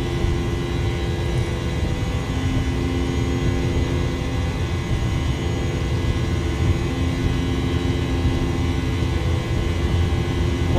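Airbus A320 jet engines at takeoff thrust in a flight simulator, a steady loud roar with constant whine and low rumble holding evenly throughout with no pauses.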